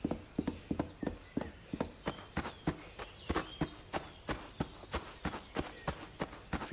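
Footsteps in the video game Reveil that sound like horse hooves, a steady run of sharp clopping impacts, close and fairly loud, quickening partway through, with no talking over them.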